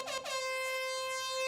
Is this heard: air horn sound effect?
yes